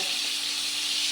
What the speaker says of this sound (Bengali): এবার মাছগুলো দিচ্ছি ভাজতে, ভাজা হোক